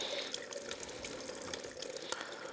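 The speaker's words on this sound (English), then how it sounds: "I actually am gonna fill it up with water," Tap water runs steadily into the cooling system of a Yamaha Grizzly YFM700 ATV during a coolant flush, a close continuous splashing gurgle with small drips and no talking.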